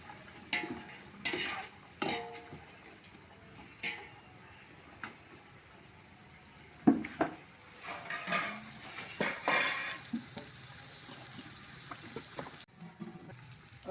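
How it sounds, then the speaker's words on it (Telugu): Three sliced onions frying in a pan for chicken biryani, a soft steady sizzle under repeated scrapes and clinks of a spoon stirring against the pan, close and moderate in level. "కట్ చేసి పెట్టుకున్న ఎర్రగడ్డలు 3 ఎర్రగడ్డలు, బాగా వేపుకోవాలి"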